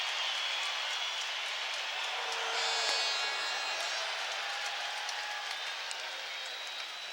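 A baseball stadium crowd cheers and roars during Nolan Ryan's sixth no-hitter. The broad, distant wash of noise swells briefly about midway, then holds steady.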